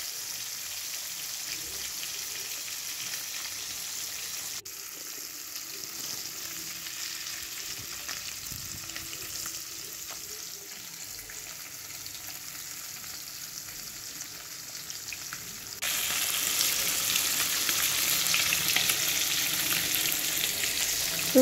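Fresh fish marinated in turmeric and salt fries in hot oil with a continuous, even sizzle and hiss that holds for a long stretch, then grows louder and brighter toward the end. No speech.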